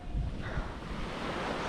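Waves wash onto Bo Phut Beach at Fisherman's Village, Ko Samui, Thailand, a steady rushing surf mixed with wind noise buffeting the microphone, close and continuous with no voices.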